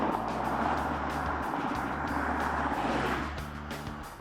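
A Bentley Bentayga driving along, its engine giving a steady low drone with road and wind roar, holding constant before easing off slightly near the end, with no talk.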